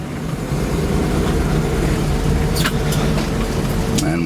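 A Toyota FJ40 Land Cruiser without power steering rolling along, its engine a steady, loud low rumble throughout, with a few brief higher-pitched clicks or squeaks partway through.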